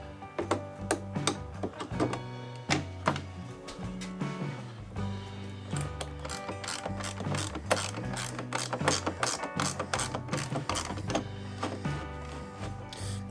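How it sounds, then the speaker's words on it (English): A ratchet ring tightening door fittings on a Lotus Elan M100: rapid clicking of the pawl in irregular bursts of strokes, moderately close and fairly quiet, with no talk. "the easiest way to tighten these is to use a ratchet ring"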